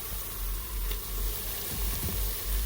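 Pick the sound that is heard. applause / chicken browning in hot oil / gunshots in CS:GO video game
chicken browning in hot oil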